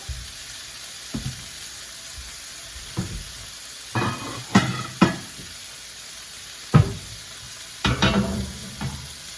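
Cauliflower rice chars in a hot pan with a soft steady sizzle, broken by several sharp scraping and stirring clatters from a utensil at close range, with no one talking.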